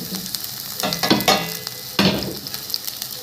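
Onion sizzling in hot oil for Turkish-style shakshuka, a loud close crackle broken by several scraping stirs of a utensil in the pan.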